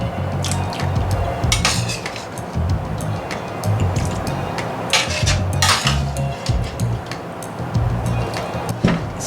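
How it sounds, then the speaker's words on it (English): Leftover roast lamb tipped into pasta in a cooking pan, with repeated clattering of utensil against metal and soft wet stirring and squishing, close and steady throughout. "Now I'm going to put the meat in the pasta."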